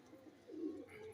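A single pigeon gives one soft, low coo, faint and fairly close, swelling briefly in the middle.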